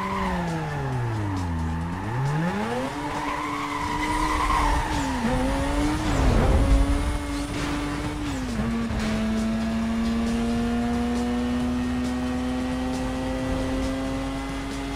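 A race car in Need for Speed Most Wanted (2005) revs hard, its engine pitch dipping and climbing through gear changes, with a loud burst of tire skidding midway before settling into a steady high drone; no speech.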